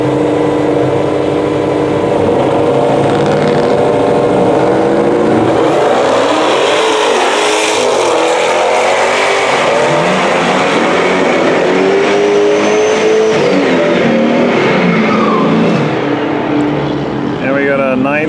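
A Dodge Demon 170 launching down a drag strip on a quarter-mile run, engine roaring loudly and rising through revs as it pulls away, with crowd and commentary voices mixed underneath.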